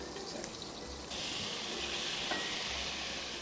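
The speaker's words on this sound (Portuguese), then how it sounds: "Então, o filé de sobrecoxa entra agora." Chicken thigh fillets hit a hot pan and sizzle steadily, the frying hiss swelling louder partway through and holding close and continuous with no talk over it.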